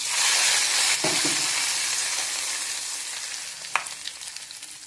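Mustard seeds, dried red chillies and curry leaves temper in hot oil for rambutan pachadi, a loud, close hissing sizzle that fades gradually, with a burst of crackling and a sharp pop near the end.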